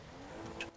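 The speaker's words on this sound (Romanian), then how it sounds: "Ce zici de mașina asta? E zgomotoasă așa" A noisy car engine in the GTA video game gives a brief, steady droning rumble at moderate level, with no talk over it.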